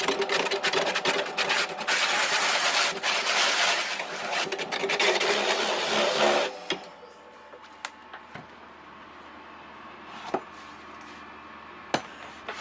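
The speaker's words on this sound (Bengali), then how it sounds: "একটি খোসা ছাড়ানোর মেশিন উল্লেখযোগ্যভাবে শ্রম ও সময় দুটোই কমাতে সাহায্য করে।" A coconut husk removing machine on a Thai coconut farm runs loudly with dense, rapid scraping and knocking for several seconds, then stops, leaving quiet with a few sharp isolated knocks.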